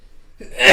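A single short sneeze-like burst erupts after near silence, loud and close, rising sharply and fading within a second.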